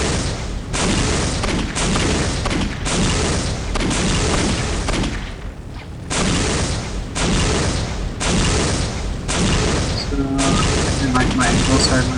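Gunfire in the video game Postal 2, with loud repeated booming shots in bursts over a steady game soundscape and short gaps between volleys.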